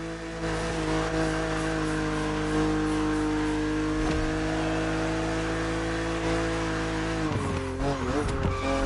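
BMW Z roadster racing against an aggressive opponent in the video game Motorfest, its engine droning loud and constant through the run, with a sudden shift and revving swell near the end.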